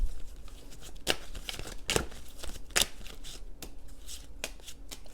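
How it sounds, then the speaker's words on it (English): A deck of tarot cards is shuffled by hand in an irregular way, giving close, quiet papery riffles punctuated by several sharp slaps and clacks. "I shuffle weird, I know."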